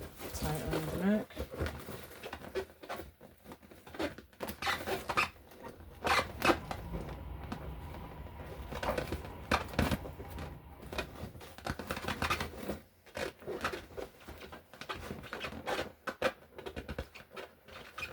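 Scissors snipping through excess satin ribbon tied around a gumball balloon's neck, close and crisp, a series of short cuts and rustles with a speaking voice in between.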